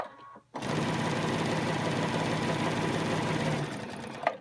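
A Brother/Babylock sewing machine, worked hands-free by its foot pedal, starts abruptly and stitches fabric with a fast, even mechanical whir for about three seconds before stopping, close and alone.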